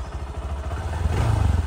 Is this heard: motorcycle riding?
yes